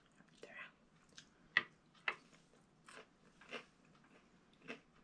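Crunchy carrot fries dipped in mayonnaise are bitten and chewed up close, a few sharp crunches standing out over softer, quiet chewing.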